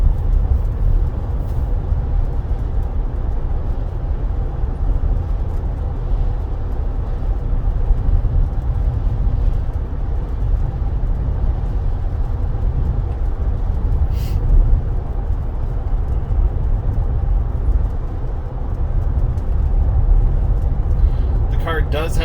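A Tesla driving itself on FSD Beta 11.4.4 around Lakeland, Florida, gives a steady low road rumble with constant tire and cabin noise that runs through the whole stretch, while a person talks over it.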